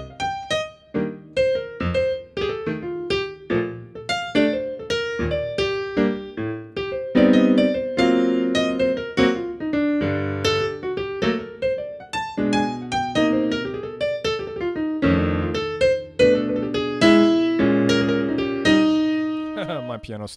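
Jazz piano playing a broken stride solo over the chords of a jazz standard, with steady alternating bass notes and chords under a busy melodic line, close and clear with no talking.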